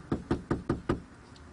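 Five firm knocks land on a house door in an even, quick rhythm, close and clear with nothing else heard.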